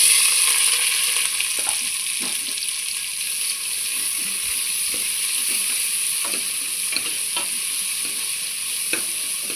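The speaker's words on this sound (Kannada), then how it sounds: "ಈಗ ನಾನು ಇದಕ್ಕೆ ಈರುಳ್ಳಿ ಮತ್ತು ಹಸಿಮೆಣಸಿನ್ಕಾಯಿ ಹಾಕ್ತಾಯಿದ್ದೀನಿ." Onions and green chillies sizzle in hot oil in a pressure cooker while making prawn biryani, a steady close crackling hiss with intermittent stirring clicks and scrapes, no talking.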